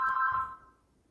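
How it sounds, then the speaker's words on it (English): A telephone rings once at close range, a bright electronic tone lasting about half a second before fading into quiet. "And the phone keeps ringing."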